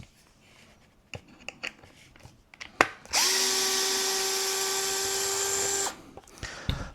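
A power drill unscrews parts from a Traxxas Mini XRT RC truck body, running in one steady close burst of about three seconds, framed by small handling clicks before and after.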